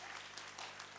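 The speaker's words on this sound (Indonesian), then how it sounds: "Tepuk tangan bagi Allah kita" A church congregation claps together in a dense, continuous wash of applause, filling the room evenly without pause.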